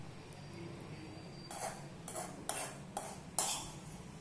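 Masala being stirred with a little tomato ketchup for a Domino's-style cheesy garlic bread filling: five or six quiet spoon-against-pan scrapes and taps in a steady rhythm, close by, with no talking.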